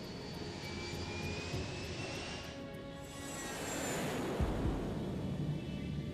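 Japan Airlines flight JAL123, a jet airliner in flight over a mountain range, gives a steady, fairly loud engine roar and rushing noise that swells slightly toward the end, with no voices.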